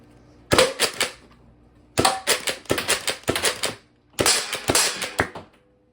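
A Nerf Pro Torrent blaster fires darts in loud, close bursts: a single shot, then several rapid clusters of sharp snapping pops separated by brief quiet gaps.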